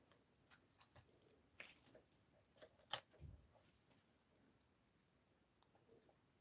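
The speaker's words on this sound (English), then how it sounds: "I'm going to use my sharp scissors to actually cut that the same length" Sharp scissors cut a length of ribbon while a bereavement card is being made, giving a few quiet, close snips and clicks with a single sharper cut near the middle and soft handling sounds between, no talking.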